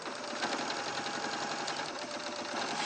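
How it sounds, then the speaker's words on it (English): Sewing machine running steadily while stitching a tapered dart in fabric, a continuous rapid mechanical whir with fine rhythmic needle ticks, close and even throughout with no talk. "So bring those edges together and just sew."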